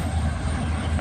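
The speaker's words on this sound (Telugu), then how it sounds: "అదిగోండి ట్రైన్ కూడా వెళ్తుంది కదా గూడ్స్ ట్రైన్ అనమాట అది" A brief, loud, heavy rumble of a passing goods train near Rayagada, continuous and close, with no voices.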